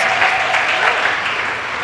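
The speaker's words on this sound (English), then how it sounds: "Let's give her a round of applause for all the emojis." A tech meetup audience claps for the next speaker, a loud, dense burst of applause filling the room and tapering slightly at the end.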